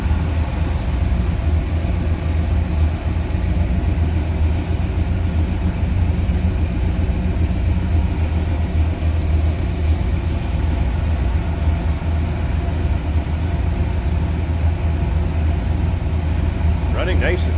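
A 1950 Ford F-1 pickup fitted with a four-barrel carburetor, HEI ignition and headers, idling smoothly with a steady, loud, low rumble throughout.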